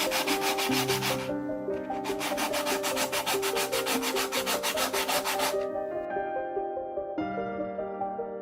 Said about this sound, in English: Sanding down easy until I got into the middle bit